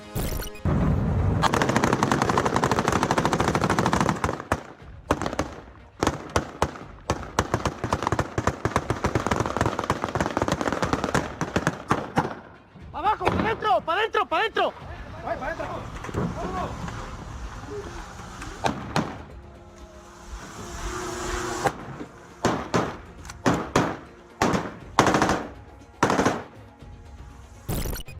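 Bursts of semi-automatic gunfire ring out in a street in Celaya, Mexico, loud rapid volleys for the first dozen seconds, then scattered sharp shots and slams, with a brief shouted command in Spanish.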